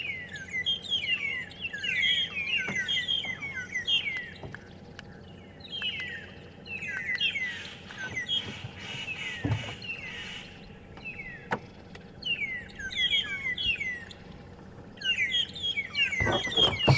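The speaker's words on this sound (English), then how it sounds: "Now we can hear the starlings going at it." Starlings call and squabble in a marula tree on an African safari at sunrise, with repeated chattering, whistling phrases over a steady low rumble and occasional sharp knocks.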